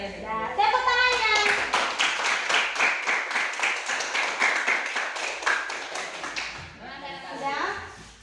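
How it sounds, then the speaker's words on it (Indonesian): Children clapping hands together in a classroom, a fast rhythmic burst of claps in steady time, with kids' voices calling out at the start and end. "Tepuk tangannya."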